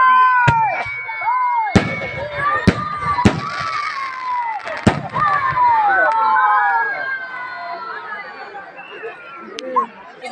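Fireworks at a Christmas fireworks fair, with several sharp cracking bangs and rising whistling streaks going off one after another. A crowd chatters and calls out throughout the display.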